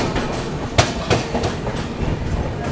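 Arunachal AC Superfast express running on rails in heavy monsoon rain, a steady rumbling rush of wheels and carriages with a few sharp clacks over rail joints, continuous and fairly loud.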